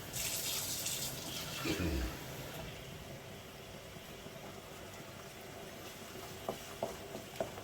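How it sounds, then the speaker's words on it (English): Water pours into a pan of keema mince and splashes briefly at first, then settles into a low steady simmer and hiss with a few light clinks near the end, close and quiet. "I'm just going to add a bit of water to this."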